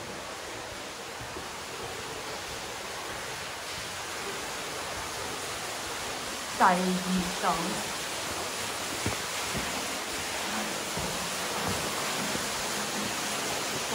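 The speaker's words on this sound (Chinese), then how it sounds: "前面聽到水聲。" A small waterfall inside the Hida Great Limestone Cave, a stalactite cave in Japan, gives a steady, even rush of water throughout, with a brief voice-like sound around the middle.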